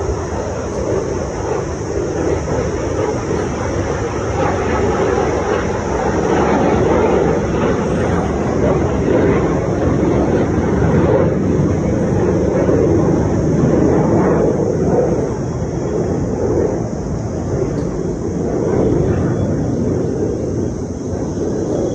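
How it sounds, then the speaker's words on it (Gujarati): A jet aircraft from the Jamnagar air force station roars overhead outdoors as a sustained, loud, broad rumble that swells and holds for a long stretch. "પ્લેનનો અવાજ સાંભળો"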